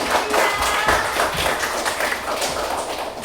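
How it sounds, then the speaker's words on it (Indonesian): A classroom of children clapping together during a religious education lesson, a continuous busy patter of hand claps at moderate loudness filling the space. "tepuk tangan semuanya"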